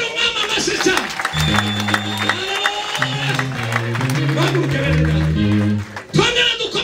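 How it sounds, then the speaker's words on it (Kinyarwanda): A church congregation claps and cheers in a loud, continuous burst, while a voice talks over the applause before it fades briefly and then swells again near the end. "Reka dukomere umwami amashyi cyane."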